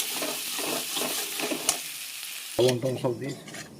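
Boiled potatoes stir-fried briefly in a little oil with shahi garam masala sizzle close and bright, with scraping stirs and a sharper burst of frying and clatter near the end.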